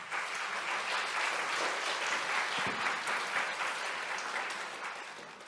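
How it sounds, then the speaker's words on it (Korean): A church congregation claps to welcome a pastor to the pulpit at a Sunday service, the steady, moderately loud applause filling the room and easing off in the final second. "권오영 목사님 나오실 때 박수로 환영 인사가 있겠습니다"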